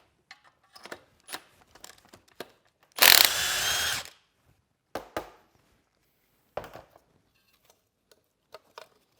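An 11 mm tool loosens the turbine housing clamp on a 6.0 turbo assembly, a sharp burst of power-tool whirring for about a second amid scattered metallic clicks and ratchet ticks.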